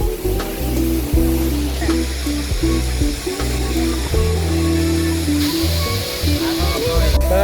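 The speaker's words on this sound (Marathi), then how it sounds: "तर काय आता आम्ही चाललो आंघोळ करायला वॉटरफॉल मध्ये." The Zenith waterfall roars as a steady broadband rush of falling water, held loud and constant throughout, partly masked by music and voices playing over it.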